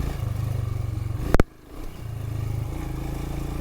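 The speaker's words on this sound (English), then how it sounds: "Because I can grab a handful of throttle" Royal Enfield Himalayan motorcycle on a trail ride, a steady thumping engine throb with a brief sharp clatter, then the engine dips and picks back up as the throttle opens, heard close from the rider's position.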